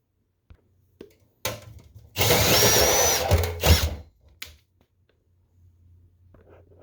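A power drill whirs in short bursts, then runs loudly for about two seconds before winding down, with clicks and quiet pauses around it.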